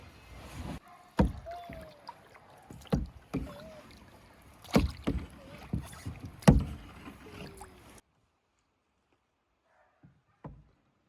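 A canoe paddle dips and pulls through calm water on a frosty fall day in the wilderness: four or five distinct, close strokes with soft splashes and drips. After about eight seconds it falls almost silent, with one faint knock near the end.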